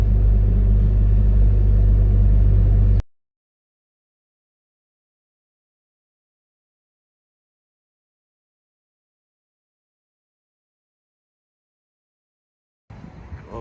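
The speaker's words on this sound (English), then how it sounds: "we are currently heading out of the park without pulling the trailer to get to the local gas station" A vehicle driving from an RV park to a gas station without its trailer gives a steady, loud low rumble from inside the cab for about three seconds, then cuts to a long silence before faint noise briefly returns.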